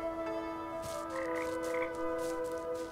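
A frog in the video game Papo & Yo croaks in a few short repeated calls over a steady tonal music bed, with no talking.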